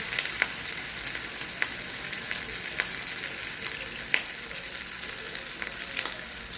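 Okra frying in hot oil in a pan, a steady loud sizzle with scattered sharp pops and crackles throughout, no voices.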